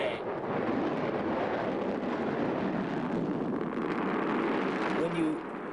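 Missile launch during a US nuclear forces exercise: a sustained, loud rushing roar with broad rumble that holds steady for several seconds before easing slightly at the end.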